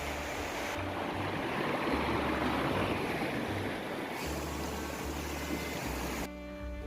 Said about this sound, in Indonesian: Jadi tuh di sini arusnya lebih deras daripada Sungai Pu tadi.